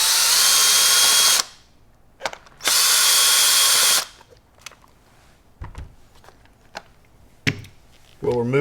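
Power screwdriver backing out the Phillips head screws holding the recoil pad on a Benelli Lupo bolt-action rifle: two loud, close whirring bursts of about a second each, then scattered clicks and handling taps.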